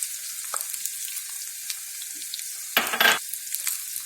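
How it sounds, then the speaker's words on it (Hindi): Dry fruits fry with almonds and sugar in a pan, giving a steady soft sizzle with a brief louder burst of stirring near the end and no voices. "2 मिनट के लिए इसको फ्राई करें ताकि ये मेल्ट हो जाए।"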